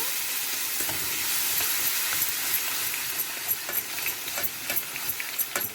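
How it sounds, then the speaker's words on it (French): Tomato sauce hits browned onions in a hot pan, giving a loud, steady, close-up sizzle with crackling spits and stirring scrapes that grow more pronounced toward the end. No one talks. "comme mes oignons ont bien colorié, je verse ma sauce tomate"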